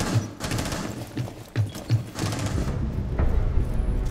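Bursts of rapid gunfire crackle in quick succession with a few heavier thumps, a busy firefight in the video game Rainbow Six Siege with no clear talking.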